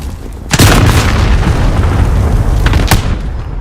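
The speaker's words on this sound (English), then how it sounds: "Allied cluster strike incoming." Cluster strike explosions in a first-person shooter game: loud, continuous booming with sharp blasts near the start and again near the end, a heavy low rumble filling the gaps.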